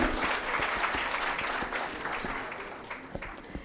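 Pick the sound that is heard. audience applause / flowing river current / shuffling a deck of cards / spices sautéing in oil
audience applause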